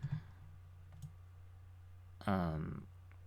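Computer mouse clicks while working in Rhino 3D modelling software: a couple of faint, isolated clicks in a quiet room, followed by a brief spoken voice.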